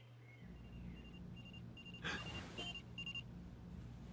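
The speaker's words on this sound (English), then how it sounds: "Alarm clock." An alarm clock beeping in Watch Dogs, faint repeated short electronic beeps at a steady rhythm over a low background hum.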